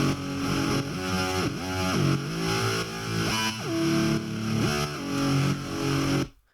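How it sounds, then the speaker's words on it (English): A big distorted, guitar-like synth fills a song's harmonic space with buzzy sustained chords and gliding pitch bends, loud and continuous for several seconds before cutting off abruptly. "I have this like what I call guitar synth distortion."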